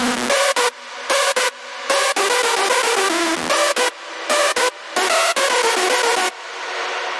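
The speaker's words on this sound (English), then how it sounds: "it should open up the reverb, and then it sounds like this." Dense, bright hardstyle music in FL Studio with repeated abrupt dropouts; in the gaps a sidechained washy reverb tail swells up and fills the space before the music cuts back in.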